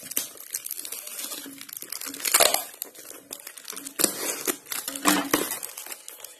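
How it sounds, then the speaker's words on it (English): Packing tape is peeled off a large cardboard box, giving close crinkling, crackling rips in several bursts with short gaps between them. "So first we remove this tape."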